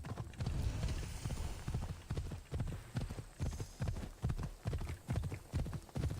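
A horse gallops in Assassin's Creed Odyssey, its hooves pounding in a fast, driving rhythm of heavy close thuds that continue throughout.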